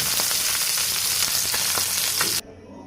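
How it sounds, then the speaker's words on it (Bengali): Hilsa fish pieces frying in hot oil, a steady loud sizzle with faint stirring clicks, close and continuous before cutting off abruptly. "এক পিট এক পিট করে ভালো করে ভেজে নেব"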